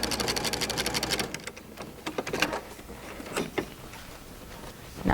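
A sewing machine runs in a steady, fairly loud burst of rapid stitching as quilt blocks are joined with a half-inch seam toward a mitered corner, then stops, leaving scattered clicks and small handling knocks.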